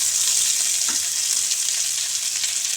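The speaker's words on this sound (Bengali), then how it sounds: "আলুটাকে ভাজা ভাজা করে নিতে হবে।" Sliced potatoes fry in hot oil in a pan, a loud, dense, continuous hiss and crackle close by, with no talking.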